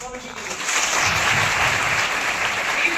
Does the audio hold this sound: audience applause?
yes